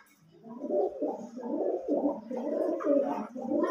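Pigeons coo close by in low, throaty, rolling phrases that repeat one after another with no pause, clear and alone, with no people talking.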